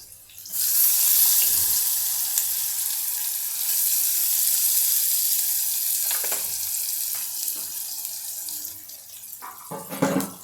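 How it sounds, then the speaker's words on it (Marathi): Lentils with onion and tomato frying in a pan, a loud steady sizzle with hiss running throughout and a few soft scrapes of a spoon stirring, louder knocks near the end, no voices. "थोडंसं हलवून घेऊया याला आणि आपण आता याच्यामध्ये कांदा टोमॅटो टाकला आहे"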